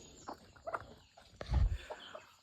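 Chickens cluck softly in short bursts nearby while feeding on rice and wheat, with a couple of louder scratching or pecking thumps.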